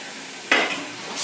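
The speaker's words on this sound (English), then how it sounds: "I'm going to take these potatoes and mash them" Cooked potatoes are mashed for dumplings. A single short, soft squelching scrape breaks through a quiet room.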